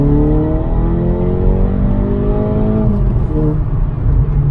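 A Seat Ibiza Cupra's turbo engine revs hard under acceleration, a loud, continuous rising drone that climbs in pitch, eases off and climbs again.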